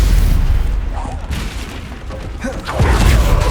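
Stupefy spell cast in Hogwarts Legacy, a loud booming magical blast with a rumbling impact, amid a busy fight with other spell effects.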